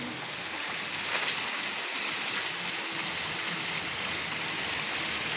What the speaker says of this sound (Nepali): फेरि माथिबाट पानी आउँदैछ